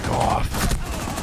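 A dense burst of gunfire from a Rainbow Six Siege match, several close, rapid shots running together over a steady game background.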